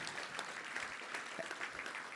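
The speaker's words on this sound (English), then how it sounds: "Let's give a round of applause for all of our great sponsors" Applause from a Little Rock Touchdown Club luncheon crowd for the event sponsors, a short, dense burst of many hands clapping, fairly distant and even throughout.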